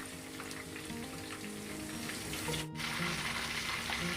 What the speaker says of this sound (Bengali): ফ্রাইগুলো উল্টে পাল্টে ভেজে নিচ্ছি।